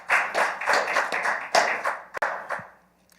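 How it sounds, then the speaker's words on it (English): A small group of people at a Monday huddle clap together for a few seconds, a steady close patter of handclaps that thins out and trails off into a few last scattered claps. "Let's clap him up. You can clap him up."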